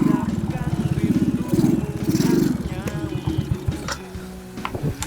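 An old motorcycle engine idling and sputtering nearby in a loud, rapid, uneven putter that thins into irregular pops toward the end.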